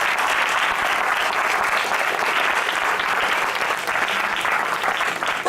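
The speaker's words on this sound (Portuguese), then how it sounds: "Se você crê, aplauda o Senhor e receba a bênção de Deus." A congregation at an evangelical church service claps together in a sustained, even burst of applause, steady and fairly distant, filling the room with no voices rising above it.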